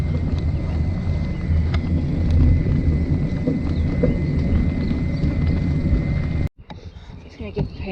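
Two ponies' hooves clip-clopping along a bumpy track, steady and close with strong wind rumble on the microphone, cutting off near the end before quieter sounds.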